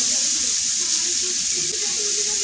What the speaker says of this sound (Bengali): বন্ধুরা উনুনে রান্না হচ্ছে বরবটি চচ্চড়ি